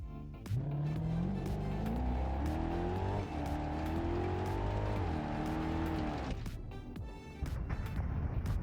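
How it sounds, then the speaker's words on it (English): A BeamNG.drive video game SUV engine revs up and holds a high, buzzing whine with shifting pitch, then drops off and revs again, loud and close. "let's see how the car sounds"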